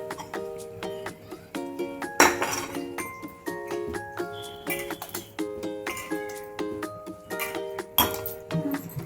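A spoon clinks repeatedly against a bowl while wheat flour bajji batter with curd is stirred, a quick, irregular run of bright metallic taps close by.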